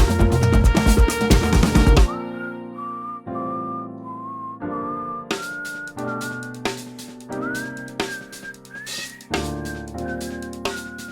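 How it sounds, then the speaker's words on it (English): A thin, weak-toned whistle carries a sustained melody over an orchestra, starting after a full, loud instrumental passage and continuing in long held phrases above soft strings and swelling accompaniment. "a weak voice whistles the tune with the orchestra"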